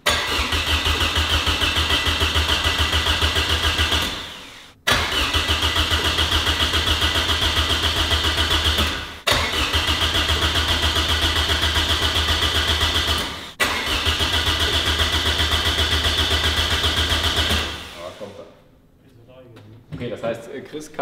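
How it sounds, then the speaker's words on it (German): A 950 hp Honda car engine cranks over repeatedly without ignition, four long even whirring bursts separated by brief cutoffs, loud and close, before the sound drops away near the end. "Das heißt, er drückt nur noch den Startknopf und er dreht ohne Zündung vor, wahrscheinlich auch ohne Sprit."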